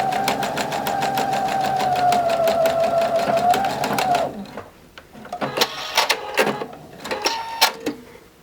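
A sewing machine stitches pinned fabric in a steady, rapid needle rhythm for about four seconds, then stops, followed by scattered handling clicks and rustles of the cloth.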